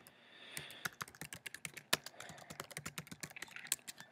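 Rapid, irregular clicking of keys on a computer keyboard as someone types into an online form, crisp and close with uneven rhythm and no voices.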